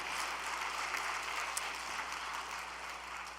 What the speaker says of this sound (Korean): 박수 한번 올려드리겠습니다